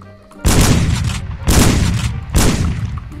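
Three loud, booming gunshots from the video game Sneak Thief, each striking hard and ringing out in a long decaying tail before the next, evenly spaced with no talking.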